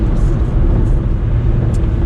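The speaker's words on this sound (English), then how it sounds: "here I am on a racetrack in a 1 litre Volkswagen Up city car" A 1-litre Volkswagen Up city car drives on a racetrack, its engine a loud, steady, close droning roar with no break.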